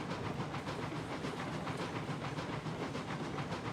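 Steam train in a video game rolling steadily along rails, a continuous rumbling run with faint rhythmic clatter and hiss throughout, no voices.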